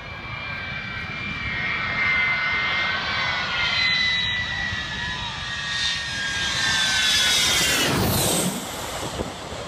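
A propeller airplane engine runs with a steady droning hum and a whining tone, swelling louder as the aircraft passes close by and then fading slightly, with no talking.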